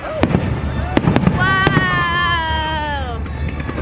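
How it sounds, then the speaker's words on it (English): Fireworks burst in sharp, loud cracks, with a whistling firework rising and falling in pitch as it climbs. Crowd murmur and wind sit underneath the explosions. "fireworks are about to happen"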